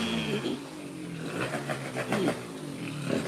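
A cobbled-together 90cc Jog scooter motor runs at a low idle with small revs, sounding faint and buzzy, with people talking over it.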